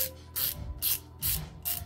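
A Husky 144-position ratchet loosening a tight nut makes five quick, close, fine-toothed clicking strokes in an even back-and-forth rhythm.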